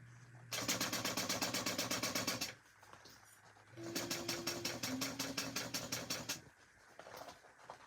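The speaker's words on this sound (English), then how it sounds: "So we're just going to sew right along that line." A sewing machine stitches fabric along a seam line in two fast, even runs of rapid needle clatter close to the mic, separated by a short pause.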